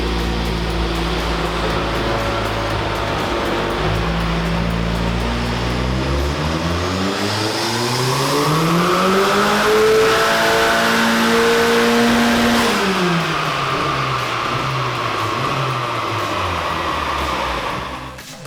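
A car fitted with a Subaru Impreza VF35 turbo, 750cc injectors and coil-on-plug ignition, running a base map on a dyno, roars loudly as revs climb steadily, peak and hold before dropping back off, with no speech.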